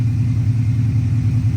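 A forged bottom-end LS V8 on an EFI system idles at first start, a steady low, throbbing rumble with a regular pulsing beat, close and fairly loud, with no talk.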